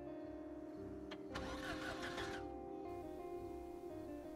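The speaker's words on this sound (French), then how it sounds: "ça démarre mal parce que la voiture ne démarre pas" A car in the survival game Project Zomboid fails to start: a brief burst of starter cranking and sputter rises over a steady mechanical drone, then stops without the engine catching, with no talking.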